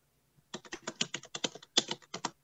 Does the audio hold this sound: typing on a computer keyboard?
yes